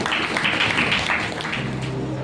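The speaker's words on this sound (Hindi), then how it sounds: "आइए जोरदार परमेश्वर के लिए तालियां बजाएं" A church congregation claps for God during a Sunday sermon, a dense, steady wash of many hands sustained across the moment, fairly loud and continuous with no clear gaps.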